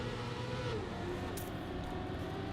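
A custom-model Trackmania stadium car engine in a racing video game: a steady, fairly quiet droning engine hum with a slight pitch sweep, heard briefly under game ambience with no speech.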